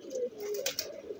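An old Khoragola tournament pigeon gives a single close, soft coo lasting about a second, with no talking over it.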